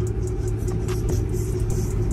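Lifted truck with True Dude straight pipes feeding X-pipes into 5-inch exhaust, a loud, steady, deep rumbling idle and rev held throughout with crowd noise in the background at a truck meet in Beaumont.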